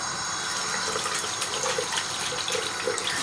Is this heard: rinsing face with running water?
yes